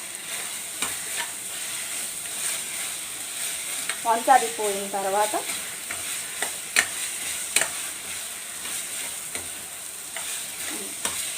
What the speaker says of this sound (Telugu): అల్లం వెల్లుల్లి అనేది పచ్చివాసన పోయే వరకు వేయించుకుంటూ ఉండాలి